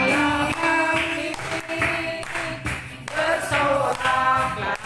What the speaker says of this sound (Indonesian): semua tepuk tangan di atas kepala